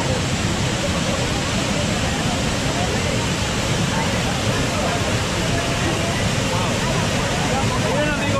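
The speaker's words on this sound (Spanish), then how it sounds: "cascada impresionante cayendo por acá" Waterfall cascading in the mountains of Guatemala, a steady, dense rushing roar that stays even throughout, with a voice speaking faintly beneath it.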